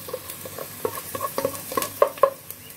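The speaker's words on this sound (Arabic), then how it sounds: "احنا البصلة اهو شوحنا البصلة كده" Onion stir-fried in a hot pan for an Egyptian seafood dish with shrimp and squid, a close sizzle broken by a few louder scraping stirs, with no voices.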